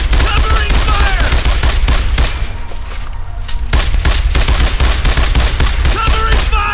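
Dense, continuous bursts of automatic gunfire and rifle shots, loud and close, sustained covering fire in the World War II shooter Brothers in Arms, with a brief lull midway before the shooting resumes.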